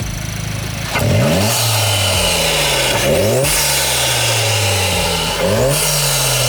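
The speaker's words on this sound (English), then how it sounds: "give it a little revs" A Volkswagen MK7 GTI engine fitted with a CTS Turbo cold air intake revved hard three times, each rev rising sharply in pitch then falling back to a steady idle, loud and close.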